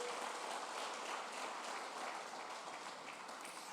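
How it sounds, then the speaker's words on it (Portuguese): A church congregation claps steadily and evenly, a faint, distant wash of applause that holds for a few seconds without strong peaks. "Dê as palmas para ele."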